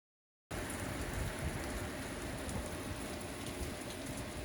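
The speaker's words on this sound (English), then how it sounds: "Oh, it's raining out here" Steady rain falling outdoors, a dense continuous hiss that starts abruptly after a brief silence and holds evenly loud and close throughout, with no talk.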